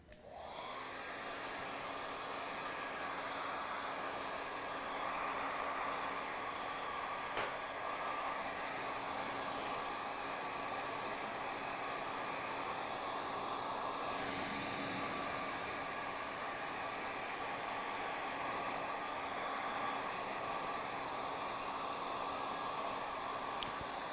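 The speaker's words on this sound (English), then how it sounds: "as I'm blow drying this, I'm trying to lift the hair" A hair dryer blows steadily throughout while styling hair to lift flat roots, a constant close whooshing roar with a faint motor whine and no pauses.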